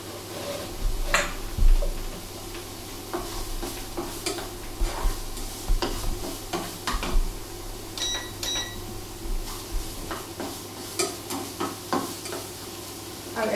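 Soft sizzling of courgette fritters frying gently in a pan over low heat, with occasional stirring clinks and scrapes, close and fairly quiet, no talking.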